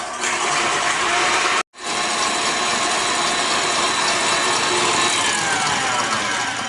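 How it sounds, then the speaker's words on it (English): A mixer whips egg whites until frothy for macarons, a loud, steady, close whirring drone that cuts out for a split second and then resumes unchanged. "you are going to beat until frothy, which is going to be about 4 minutes"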